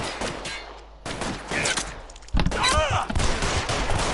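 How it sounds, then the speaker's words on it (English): Gunfire in the crime game L.A. Noire, close rapid shots and bursts in a building shootout, with shouting voices mixed among the cracks. "stood there and was getting shot at"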